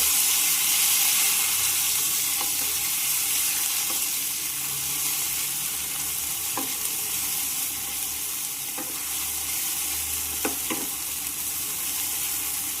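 Ground raw mango paste fries in hot oil with mustard seeds while being mixed, a continuous close sizzle with occasional soft scrapes and pops throughout.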